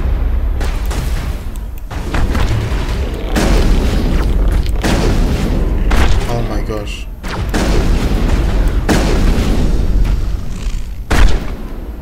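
Enemy gunfire and blasts in the video game Mass Effect, loud repeated bursts and thuds in clusters across the stretch, with a player talking over the combat.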